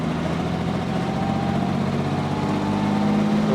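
A 1955 Jaguar XK140's 3.4-litre inline six with twin SU carburetors runs steadily, a smooth, even low engine drone at close range with no voices over it.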